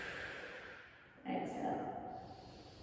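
A deep breath taken during a postpartum breathing and pelvic-floor drill, a soft, airy inhale swelling then easing off, close and quiet with no words spoken.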